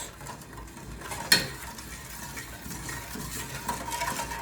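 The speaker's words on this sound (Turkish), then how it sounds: "Ve devam ediyoruz karıştırmaya güzelce." A spoon stirs a lemon mixture for homemade vitamin C lozenges, with soft scraping and swirling against the pot and one sharp metallic clink early on.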